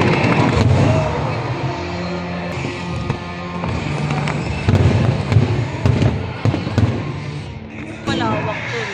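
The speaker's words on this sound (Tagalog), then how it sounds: "Mas malawak yung mga fireworks niya." Fireworks at an outdoor pyromusical show, with repeated loud bursts and crackles against a continuous crowd and music backdrop, and people chatting nearby.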